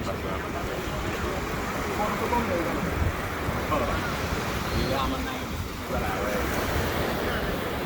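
Ocean surf rolls in continuously at Cox's Bazar beach, a broad close wash of waves mixed with wind buffeting the microphone and people talking nearby.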